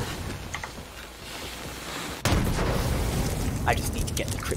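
A single sharp sniper rifle shot cracks out in Borderlands 3, loud and sudden, followed by sustained game ambience with a voice talking over it.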